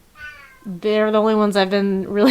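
A house cat meows loudly and repeatedly, long drawn-out cries close to the microphone, while a person keeps talking over and around them.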